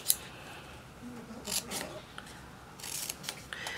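Scissors snipping paper flags for a one-sheet mini album, several short close crisp cuts in irregular bursts with quiet pauses between.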